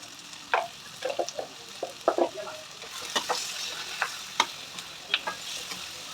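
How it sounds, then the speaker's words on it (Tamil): Green chillies, dried chillies, garlic and tomato being sautéed and stirred in a pan, giving a soft steady sizzle broken by scattered scraping and clinking stirring strokes, close by with no talk. "நல்லா வதக்கிட்டு தக்காளி போட்டு வச்சுக்கணும்."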